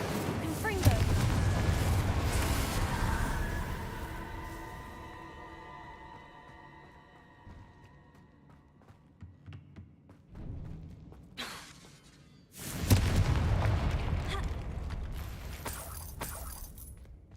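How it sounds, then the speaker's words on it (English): Incendio and Confringo spell blasts from Hogwarts Legacy burst out in heavy booming, crackling waves, a loud opening volley fading into ringing tones and sparse hits, then another strong burst, with a voice calling out over them. "Incendio! Confringo! Incendio! Confringo!"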